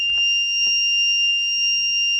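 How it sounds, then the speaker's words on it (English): A Renault Clio IV RS car alarm sounds with a steady, shrill electronic tone held continuously at close range, with faint knocks underneath. "Alarm's probably going to go off in a sec now."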